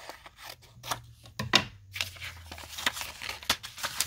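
Scissors snip through junk mail envelope paper during a papercraft project, a few close crisp cuts with soft rustling between them.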